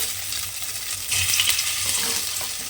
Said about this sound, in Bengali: এবারে এই তেলের মধ্যে সয়াবিনটা আমাকে দিয়ে দিতে হবে।